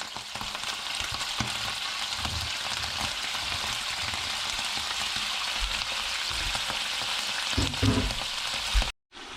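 Blue-eye cod fries in a pan with a dense, steady sizzle and occasional soft stirring knocks, close and continuous, cutting off abruptly near the end.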